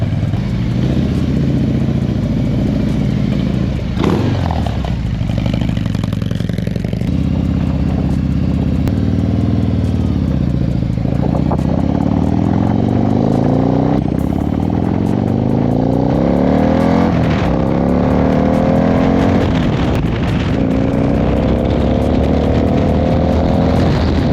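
A cammed 117 cubic inch Harley CVO bagger engine revs loudly and continuously, rising and falling through repeated throttle sweeps with a deep rumbling exhaust, close and dominant throughout.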